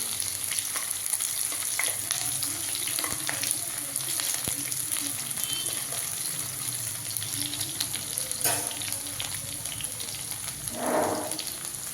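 Ground mint paste is stirred into rice frying in a pan, with a steady close sizzle, scraping stir strokes and a brief splash of water or tap noise near the end.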